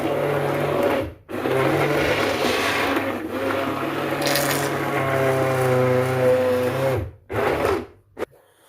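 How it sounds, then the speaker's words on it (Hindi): An electric grinder blends cooked dal with chicken korma for haleem, a steady loud whirring motor with a strained low hum that runs for several seconds, cuts out briefly, then restarts and stops. "चिकन को इसमें डालता हूँ, जो कौरमा है हमारा, और फिर दोबारा इसको ग्राइंड करेंगे।"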